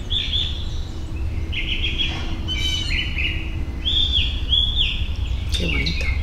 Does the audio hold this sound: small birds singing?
yes